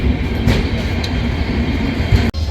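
Train 12343 Darjeeling Mail runs between Sealdah and New Jalpaiguri, heard from inside a crowded general class coach as a steady loud rumble with a brief click near the end.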